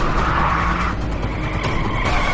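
A car skids during a chase, a sustained tire squeal running over a low engine rumble for a couple of seconds, loud and close with no talking.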